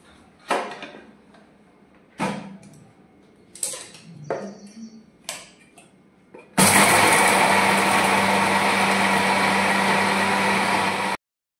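A mixer grinder blending a makhana (fox nut) mixture for summer laddoos runs at a loud, steady roar for several seconds, after a few short clunks and knocks of handling the jar.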